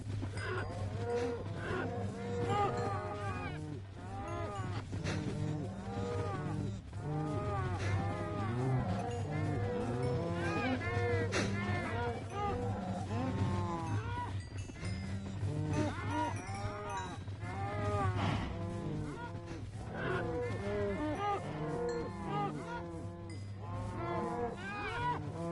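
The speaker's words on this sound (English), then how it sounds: "So many cows." A herd of blocky Minecraft cows moo over and over in overlapping, rising and falling calls, close and steady throughout against a low background hum.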